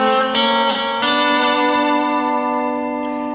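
Lap steel guitar with notes picked close and loud, strings two and three bent upward, a few quick plucks followed by a long sustained ringing chord that slowly fades.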